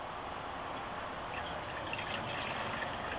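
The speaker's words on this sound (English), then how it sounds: "We're going to start off with adding a cup of distilled white vinegar." A cup of distilled white vinegar poured for a rib mopping sauce, a soft, quiet, continuous trickle of liquid heard alone for a few seconds.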